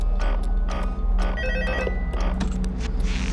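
A telephone rings in the Five Nights at Freddy's 2 horror game, several loud repeated bell trills in a quick rhythm, close and clear with no talking over it.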